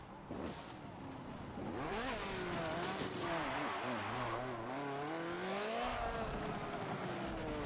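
A race car in a racing video game skids off the track at a chicane, its engine revving and wailing in rising and falling pitch with tire noise, loud and close, while a voice talks over it.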